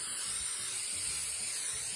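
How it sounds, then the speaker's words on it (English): A short, continuous hissing spray of cooking spray from an aerosol can onto a cookie sheet, close and steady for about two seconds. "let's spray our cookie sheet and get it ready"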